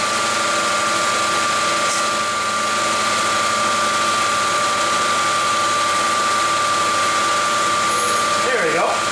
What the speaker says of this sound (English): My surface grinder spins counterclockwise.